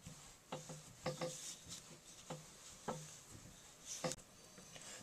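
Soft, squishy presses and rubs come from gold Play-Doh being kneaded by hand on a tabletop, faint and close, in a handful of separate slow squeezes with quiet gaps between them.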